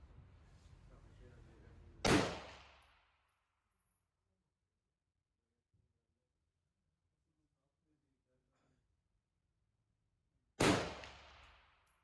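Two sharp, loud reports from an M4 rifle during zeroing at a range, spaced about eight seconds apart with quiet between, each with a short decaying tail.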